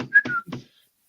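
Short whistled phrase of a few rising and falling notes from a person, close and fairly loud, with no talk around it.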